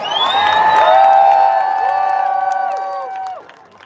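A live crowd cheers and whoops in a loud burst that swells, then fades out over a few seconds, with shouting voices layered over one another.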